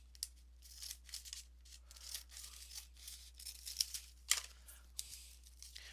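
Scissors snipping a strip of recycled paper bag for a woven basket, a run of soft, close, rhythmic cuts with light paper rustling and crinkling, quiet and without talk.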